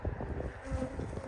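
A honeybee hovers close to a beekeeper's hand at the hive, a faint, wavering buzz that swells and fades near the microphone over about a second, with light wind noise.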